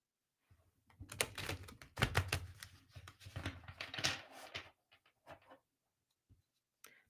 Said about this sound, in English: I'm going to be thinking that question and that ask of the cards while I'm shuffling.